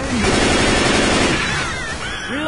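Rapid gunfire pours out in a dense, loud burst during a Left 4 Dead 2 co-op fight, with fiery in-game effects and other sounds mixed underneath.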